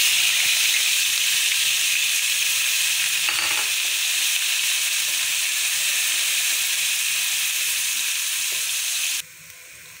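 Onions sizzling in half a cup of hot oil in a kadai over high flame, a steady loud broadband frying hiss that stays constant, then drops abruptly near the end.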